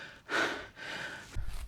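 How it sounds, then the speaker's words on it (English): Heavy breathing from a hiker after climbing uphill toward a tor, with close, loud breaths coming in a few deep gusts and no speech. "Sorry folks, you just have to listen to me panting up the whole way here."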